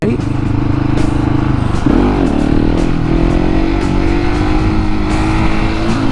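A KTM 701 Supermoto single-cylinder motorcycle runs close and loud, its engine note rising and falling as the throttle is eased on and off, with a rider speaking over the constant engine and wind noise.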